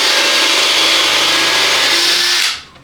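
A power drill drives 3-inch screws into 8-foot 2x4 wood pieces being joined into a box for a budget workbench, a loud continuous whirring motor run of about two and a half seconds that cuts off abruptly, with no talk.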